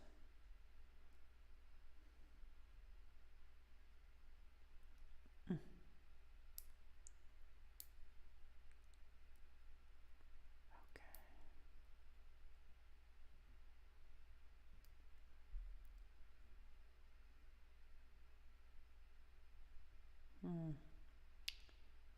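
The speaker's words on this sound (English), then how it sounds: "Boy, can nail clippers go dull?" Dull nail clippers trimming fingernails, a few sharp isolated clicks spaced several seconds apart, close but quiet against a faint steady background hum.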